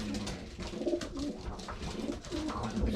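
Young racing pigeons in a loft coo continuously in soft, overlapping throaty calls, close and moderately loud, with several birds audible at once.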